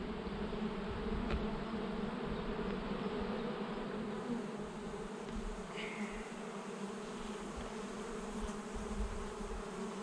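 Dense, steady buzzing of a crowd of honeybees jostling at the hive entrance during a June beekeeping inspection, a close continuous drone with no speech.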